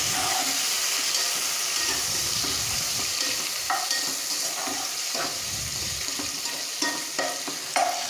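Green chillies and onions sautéing in a pan over full heat, a continuous close sizzle with repeated stirring scrapes and soft clicks of a spoon, no talking.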